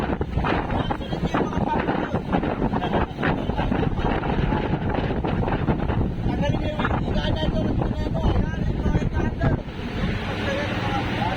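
Strong wind roars over rough sea aboard a fishing boat on the Pacific, a dense continuous rush with engine rumble and water noise, while someone talks underneath.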